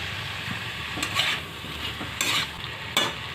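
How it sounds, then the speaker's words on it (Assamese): Raw banana pieces fry in a pan with spices, sizzling steadily while a spatula stirs and scrapes in several distinct strokes, close and clear with no talk. "2 মিনিট চব্জিখন ভাজি ল'লোঁ।"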